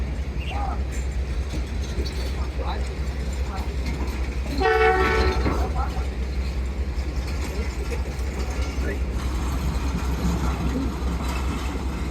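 A delayed passenger train pulls away from a fog-bound station in Lahore, with a horn-like tonal blast near the middle over steady low rumbling and station noise; faint voices murmur in the background.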